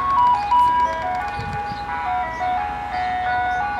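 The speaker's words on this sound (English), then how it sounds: "Fucking ice cream truck all the way down there?" Ice cream truck jingle playing on a residential street, a tinny repeating electronic melody carrying steadily from some distance, with faint vehicle and street noise beneath it.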